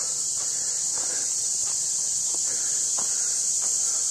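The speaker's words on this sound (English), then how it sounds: "You can hear the bugs." Insects on an outdoor trail keep up a continuous high, shrill chirring drone, with a few faint soft footstep-like thuds underneath.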